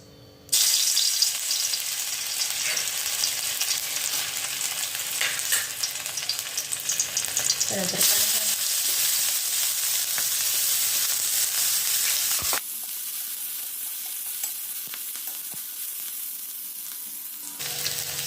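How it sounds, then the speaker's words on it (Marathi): Soybean vadas fry in oil in a black kadhai, a loud, dense, continuous hiss of bubbling oil with brief clinks and stirring sounds, easing to a quieter sizzle partway through. "आता आपल्याला एक एक करून भाजून घ्यायचं आहे"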